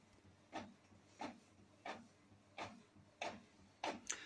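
Inkjet printer printing Pinterest images, with six evenly spaced soft mechanical swipes about two-thirds of a second apart, faint and close over a low hiss.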